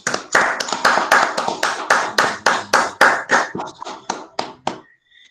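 An audience at a scientific symposium claps in a rhythmic, evenly spaced pattern of about twenty sharp beats that thin out near the end, close and loud with no talking.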